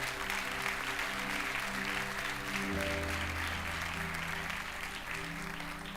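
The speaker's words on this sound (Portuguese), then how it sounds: "aplauda ao Senhor" A church congregation applauds steadily throughout, a dense, even wash of clapping heard alone with a sustained tone running underneath.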